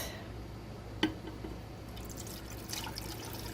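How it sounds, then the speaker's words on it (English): Lime and water solution poured over eggs: a single sharp splash or clink, then a soft liquid trickle and swishing, close but fairly faint. "And then I just pour that over the eggs."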